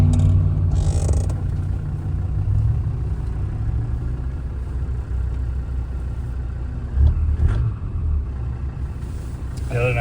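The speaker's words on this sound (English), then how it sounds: "wind and from the engine, hearing the beautiful note of that thing spooling." A 1998 Land Rover Defender 90 with a performance-built Td5 diesel engine rumbles steadily on the road, a deep droning hum with wind noise and a brief surge in revs, while a person talks over it.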